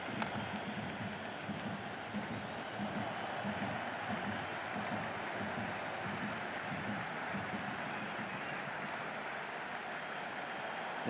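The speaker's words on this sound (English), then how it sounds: "The crowd is electric right now." A crowd roars steadily and quietly throughout an India versus New Zealand match in the cricket video game Cricket 26, an even wash of noise with no one speaking.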